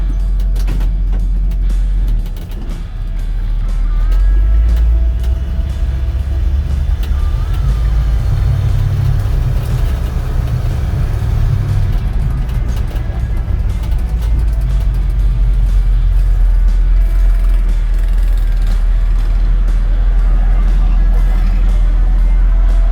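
A 1972 Ford F250 pickup with a 390 cubic-inch engine drives through traffic in Phoenix, its low engine rumble steady and loud from inside the cab, with road noise throughout.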